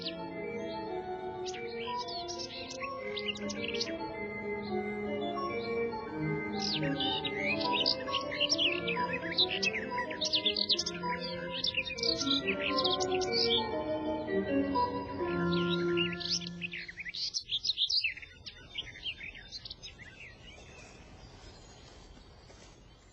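A warbler sings rapid high trills and chirps over a layered wash of other birdsong and insects, continuous and moderately near, fading toward the end.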